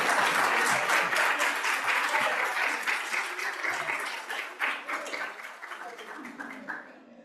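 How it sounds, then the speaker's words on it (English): An audience at a medical lecture on surgical stroke prevention in sickle cell disease bursts into loud, dense applause that fades gradually over several seconds. "I've never had anybody applaud"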